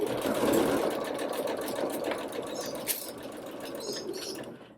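A sewing machine runs steadily, stitching the waistband edge of a doll dress in a continuous rapid whir with a light mechanical patter, close and with no talking.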